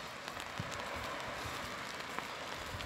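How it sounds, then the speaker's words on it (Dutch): Steady rain falling outdoors in the Netherlands while people walk through it, a continuous close patter of drops on surfaces with a few brighter splashes, no talk. "We lopen in die regen, tuurlijk lopen in die regen."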